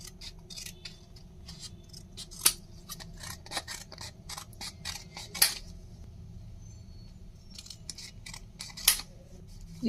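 Scissors snip through soap-coated paper in a quick series of crisp, close cuts, with a few sharper metallic clicks standing out in a quiet room.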